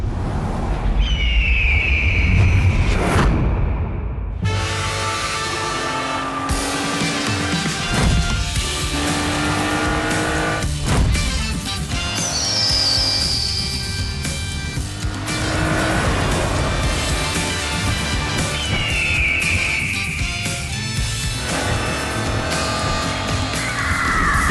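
TV commercial for the Jeep Commander with its Hurricane engine: loud engine roar and revving with squealing tires and whooshing passes, set to a backing soundtrack, continuous and close throughout.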